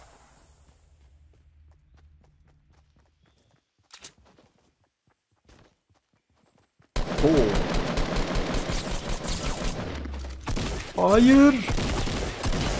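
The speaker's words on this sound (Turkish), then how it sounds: "Varsa pompalı ile kafasına çakacağım şimdi." Pump shotgun blasts in a Fortnite Battle Royale match, arriving suddenly after a long quiet stretch as a loud, dense burst of gunfire mixed with game effects, while someone briefly speaks.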